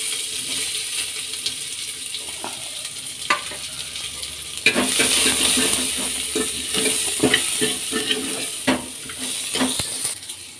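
Onions with curry leaves and chillies fry in a pan, a steady sizzle that swells louder midway, broken by repeated scraping knocks of a spoon stirring; no speech.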